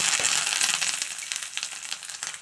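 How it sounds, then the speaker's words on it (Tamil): Mustard seeds, cumin and curry leaves hit hot oil for hotel-style idli sambar, setting off a loud, dense sizzle with crackling pops that eases slightly toward the end. "எண்ணெய் காஞ்சிருச்சு இப்போ நம்ம கடுகு போட்டுப்போம் கொஞ்சோண்டு சீரகம் கருவேப்பிலை போட்டுப்போம்"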